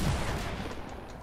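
Exotic weapon fire in a shooter game, a dense continuous burst at moderate level that holds steady for about a second before tapering slightly, heard alone with no voices.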